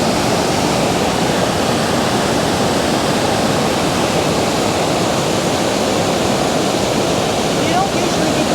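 Water rushing over the dam at Mammoth Spring, a loud, steady, close broadband roar with no breaks, filling the whole stretch.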